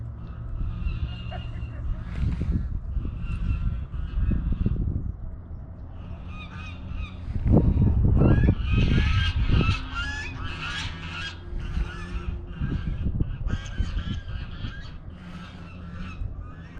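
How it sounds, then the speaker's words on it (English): Geese on a lake honk in repeated bursts, some nearby and loud, others more distant, with a steady low hum underneath. "I don't think those geese are happy that I'm here."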